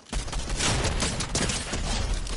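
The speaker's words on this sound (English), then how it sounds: "Somebody shooting at me." Gunfire in the video game Fortnite crackles almost without pause, a dense, loud barrage of rapid shots that keeps going through the whole stretch with no voices over it.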